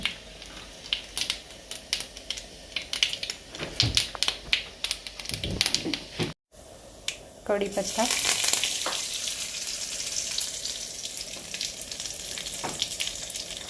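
Mustard seeds, cumin and curry leaves hit hot oil in a kitchen. Scattered light clicks and knocks come first, then a sudden loud, crackling sizzle sustains to the end.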